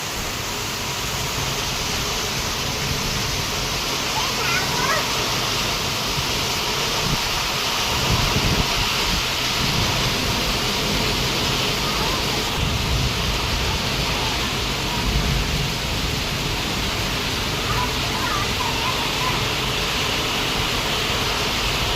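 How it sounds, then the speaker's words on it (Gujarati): Heavy rain falling in Amreli with strong wind: a dense, steady broadband hiss of downpour and gusts, constant and loud throughout with no voices. "ફૂલ વરસાદ શરૂ છે."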